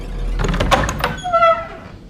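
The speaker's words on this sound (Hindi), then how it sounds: "दरवाजा ऑटोमेटिक खुला" An automatic door slides shut with a low rumble, a couple of clunks and a rising whine at the end, close and fairly loud.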